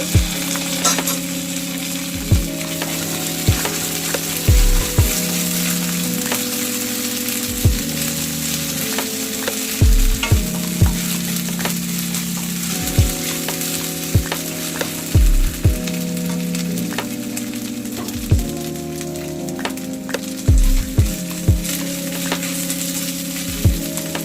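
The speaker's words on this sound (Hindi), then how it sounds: "रसुन को कंचा स्मेल जावा पर्यंत टिके भाजिबा।" Ginger garlic paste fries in hot oil in a pan while it is stirred, giving a steady sizzle broken by repeated scraping and clacking strokes of a spoon, close and continuous with no speech.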